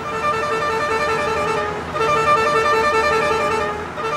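A tow truck on a snow-removal crew sounds its warning horn, a loud, steady, multi-tone blare held for several seconds with a brief dip midway, close by and with no one talking.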